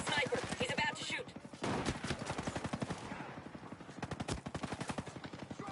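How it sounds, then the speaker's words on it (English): Rapid automatic gunfire crackles in Ghost Recon Breakpoint, dense rattling bursts repeating close and loud almost without pause. "Sniper about to fire. Sniper ready to fire."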